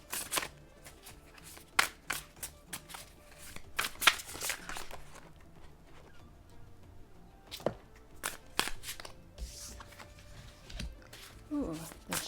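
A deck of tarot cards being shuffled by hand, with quick papery riffles and soft card taps in uneven bursts, close up, with a quiet voice now and then.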